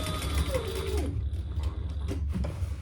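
A sewing machine stitching a tag onto a fabric clutch bag, a steady fast mechanical whirr close by for about a second, then slowing into a few separate clunks and stitches.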